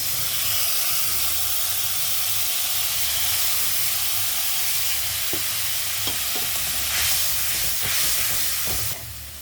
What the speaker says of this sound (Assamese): এতিয়া মই মছলাখিনি ভালকৈ ফ্ৰাই কৰি ল'ম